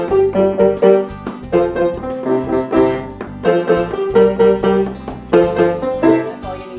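Instrumental rendition of a rock song in a home music setting, with rhythmic chord stabs repeating in a steady riff pattern, loud and close, with no talking.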